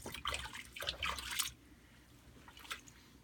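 Water splashing and dripping while a tame hen is bathed in bubbly water, with two bursts of sloshing near the start, then quiet trickles and a brief splash near the end.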